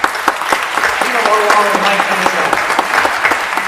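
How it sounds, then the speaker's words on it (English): Loud, sustained applause from attendees at a voters' town hall, many hands clapping close by with a voice speaking faintly beneath. "Let's give them a round of applause."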